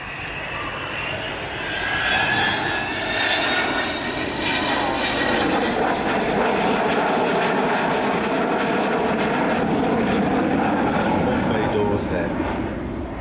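A Avro Vulcan XH558 jet bomber flies at a Biggin Hill air show, its engine roar loud and sustained throughout, with a rising whine layered over the broad rumble.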